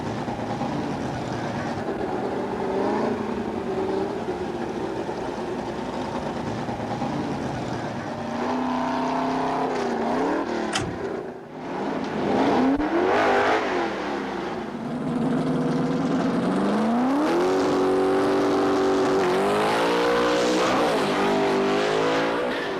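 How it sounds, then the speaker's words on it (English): A vintage drag race car roars through a burnout and launch, its engine loud and close with repeated rising revs and shifting pitch sweeps. A short dip in the middle drops to near quiet before the engine surges back. "that's Dyno Don's crew member Snake Jones putting some bleach down for the burnout procedure."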